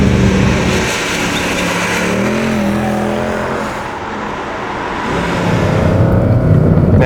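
A 2013 Mercedes-AMG C63 with a 507 hp naturally aspirated engine accelerates on a wet, greasy road, giving a loud, continuous engine roar mixed with heavy road and wind noise that swells and dips.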